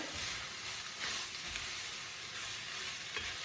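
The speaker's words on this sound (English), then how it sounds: "let's add our little garlic in here" Garlic frying in the pot for a ham and white bean soup gives a steady close sizzle, with light stirring scrapes running underneath and no voices.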